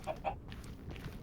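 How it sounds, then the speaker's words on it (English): Chicken clucking in the survival video game Primal Winter, two short close clucks near the start over a low, steady game ambience, then quieter fowl murmurs. "Chicken, chicken, chicken, chicken."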